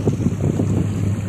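A boat's outboard motor running during its break-in on the water, a steady low engine drone mixed with buffeting wind noise on the microphone, no voices.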